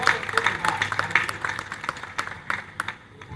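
Scattered audience clapping welcoming a poet at a Hindi comic poetry gathering, uneven individual claps with a few louder strikes, fading toward the end.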